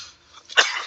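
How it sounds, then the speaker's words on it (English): A single sharp cough bursts out near the close, loud and close-up, following a stretch of quiet room tone. "sorry with the cough"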